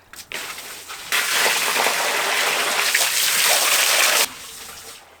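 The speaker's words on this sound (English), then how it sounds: "Good thing about a boat is you can just pour buckets of water in it." Buckets of water are poured into a boat's engine bay during a Yanmar engine rebuild, a loud continuous splashing gush lasting about three seconds after a brief opening splash, then stopping abruptly.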